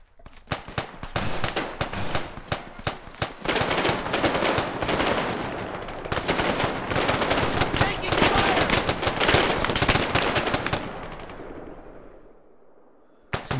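Dense bursts of rapid gunfire in a military shooter game, rattling near and loud in overlapping volleys for most of the stretch before fading at the end, with voices talking over it.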